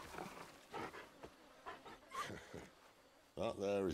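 A dog in a video game panting and snuffling in short breathy bursts, fairly quiet, followed by a voice-like whine at the end.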